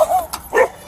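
A dog lets out a couple of short, loud barks and yips at close range, a quick pair of calls with a brief gap between them and no talking over them.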